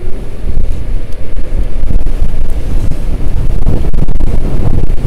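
Strong wind buffets the microphone in a continuous loud roar with gusty thumps, heard on a ride toward a ski base on Mount Baran near Kislovodsk.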